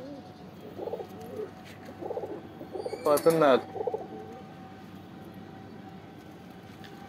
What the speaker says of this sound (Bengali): এই একটা পায়রার বেবি, লাল কালারের গিরিবাজ লাগছে